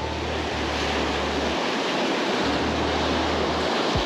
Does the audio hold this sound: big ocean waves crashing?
yes